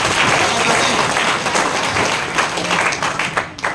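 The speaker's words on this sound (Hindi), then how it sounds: "एक बार मेरे अप्लाई के लिए जोरदार ताली बजा दो भैया" A crowd at a talk applauds loudly and steadily, close and dense, then tapers off near the end.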